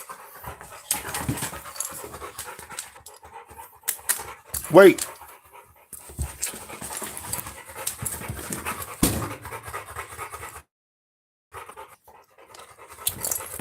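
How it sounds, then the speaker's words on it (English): A dog pants rapidly and close by with rhythmic breathy huffs that continue for many seconds, while someone talks intermittently over it and a brief whimper is heard. "Stupid dog."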